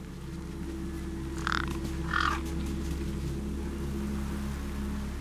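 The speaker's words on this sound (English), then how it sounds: "The gang birds were eyeing up the corpse hungrily." Crows in the video game Beyond a Steel Sky caw twice over a corpse against a low steady ambient hum, two short harsh calls about a second apart.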